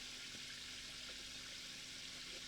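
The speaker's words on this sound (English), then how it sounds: "Peter, can you hear me with the water running" Water runs steadily from a tap as a continuous, fairly faint broadband hiss with no talking over it.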